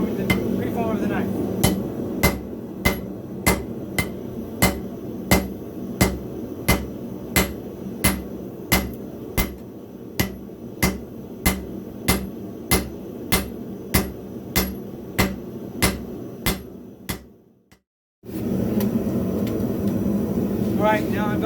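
Steel is hammered flat into a skinning knife preform, a steady series of about twenty sharp, ringing metal blows at a regular pace over a constant roar, ending in a brief silence before the roar returns.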